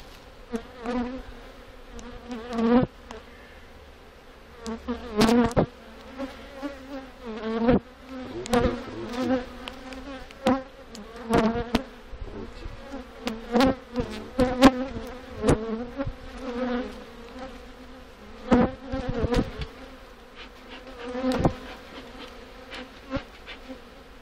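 Honeybees buzz steadily around a hive with a drone among them, a dense close hum pierced by repeated sharp clicks and knocks of handling, no speech.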